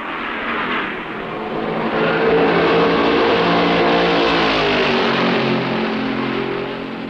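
1965 NASCAR stock cars roar around Darlington during the Southern 500 at racing speed, a loud continuous engine drone that swells and holds steady across the clip, with no talking.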